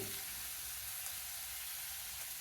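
Finely chopped onions with turmeric sizzle steadily in hot oil in a pan while cooking mutton masala, a loud, continuous close-up hiss with no voices.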